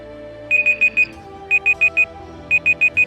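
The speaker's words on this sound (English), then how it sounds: "Alarm has run." A timer alarm set through Google voice search beeps in three groups of four sharp, high electronic tones, evenly spaced, clear and close with nothing else over it.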